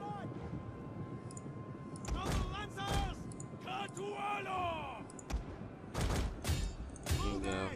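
Distant volleys of missile and gunfire crackle through a Total War: Attila battle, with scattered impacts, battle cries and whistling projectiles layered over the din, and faint voice commentary present.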